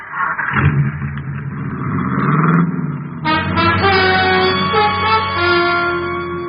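Engine of a car pulling away in a noir radio drama, a steady motor drone that rises into a revving acceleration partway through, close and loud with no voices over it.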